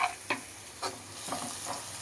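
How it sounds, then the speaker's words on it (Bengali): Peanuts fry in hot oil with a dried chilli, a faint low sizzle marked by a few brief scraping stirs a moment apart. "বাদামটা একটু ভেজে নিচ্ছি।"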